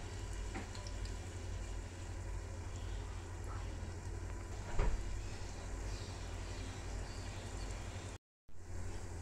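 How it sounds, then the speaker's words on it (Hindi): Balushahi frying in hot oil over low heat gives a faint, steady sizzle and bubbling hiss throughout, with a brief louder pop midway and no talking. "अब हम बालूशाही इसमें डाल देंगे, लो आंच पे इसको फ्राई करना है और गोल्डन होने तक फ्राई करेंगे।"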